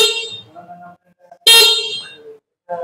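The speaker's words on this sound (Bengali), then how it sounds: "দুই পাশে দুইটি হর্নের সুইচ রয়েছে, যার জন্য আপনি সুন্দরভাবে হর্ন চালাতে পারবেন" A vehicle horn is pressed using one of two horn switches, giving a couple of short, loud honks close by, with someone talking between them.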